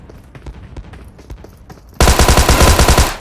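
Gunfire in the mobile game PUBG Mobile: scattered single shots at first, then a sudden loud, dense burst of rapid automatic fire filling the second half.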